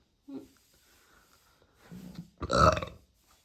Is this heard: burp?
yes